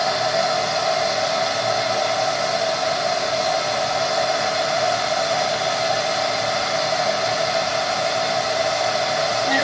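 A hair dryer runs steadily on a low setting, pointed at an animal cage, producing a constant even whooshing hum with a steady motor whine, unchanging for nearly ten seconds.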